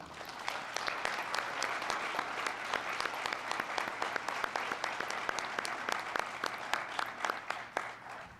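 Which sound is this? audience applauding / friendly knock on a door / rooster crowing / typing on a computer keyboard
audience applauding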